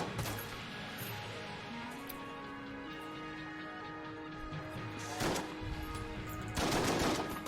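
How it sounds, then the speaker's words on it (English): A revolver with a shotgun-like blast fires in Enter the Gungeon amid game music, with a couple of heavy bursts toward the end standing out over the busy mix. "It sounds like a shotgun, but it looks like a revolver."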